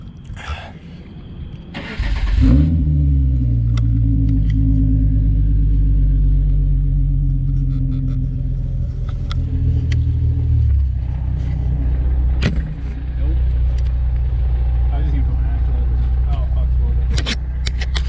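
A manual-transmission car's engine cranks and catches, then idles and revs in a steady, loud rumble close by, with brief voices heard over it.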